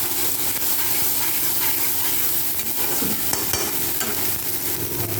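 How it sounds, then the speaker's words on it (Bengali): Onion-garlic spice paste with turmeric and salt sizzles steadily in a pan for a lentil dal, with a spoon stirring and scraping through it in irregular strokes, close and continuous with no voices. "আমি মশলাটাকে ভালো করে একটু কষিয়ে নিয়ে তারপর জল দিয়ে দেবো"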